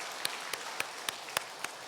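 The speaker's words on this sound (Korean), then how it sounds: "박수로 환영하도록 하겠습니다" Church congregation applause welcoming new members at a Sunday service, a soft, distant wash of clapping with a few sharper claps standing out at a steady pace.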